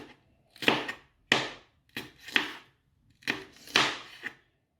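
A blunt knife chops through a whole green pepper on a board: about six crisp, crunchy cuts in uneven pairs, close and fairly loud, with no talking.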